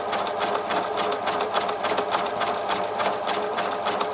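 A Pfaff classic-style quilt sewing machine stitches wide zigzags, its needle clattering in a fast, steady rhythm at close range, with no one speaking.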